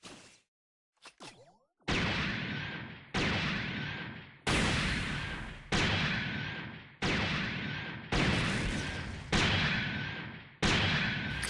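Eight heavy weapon shots in SD Gundam Online fired by the SR-rank Strike Freedom Gundam METEOR, each a loud sharp blast decaying over about a second, following a short pause after a few brief whooshes.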